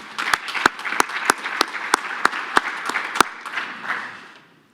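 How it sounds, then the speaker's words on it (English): Conference audience applauding during a welcome address, a loud burst of clapping with sharp individual claps over a dense wash that fades out at the end. "please give them a warm round of applause."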